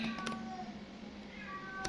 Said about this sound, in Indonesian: maaf kalau berisik, ada suara kucing